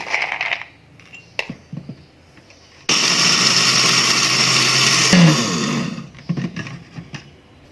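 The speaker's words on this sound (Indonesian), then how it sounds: "Selanjutnya saya akan memblender kacang gorengnya dulu." A kitchen blender grinds fried peanuts in one loud, continuous whirring burst of a few seconds. Quieter handling knocks and clatter come before and after, with no one talking.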